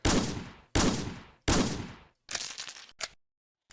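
Scripted gun system in a Roblox game fires three loud, evenly spaced gunshots, each with a sharp crack and fading tail, followed by a rattling burst and one last short shot, with no voices.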